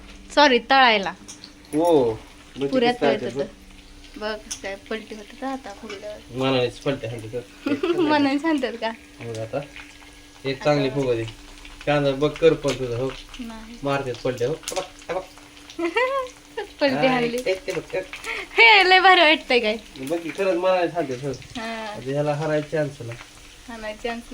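Puris frying in hot oil for a pani puri meal, a steady sizzle running under near-constant conversation from people in the kitchen.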